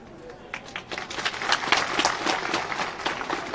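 An audience at a Hindi-language political speech claps in scattered bursts that swell into fuller applause, fairly close and lively.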